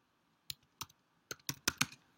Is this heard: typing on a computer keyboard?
yes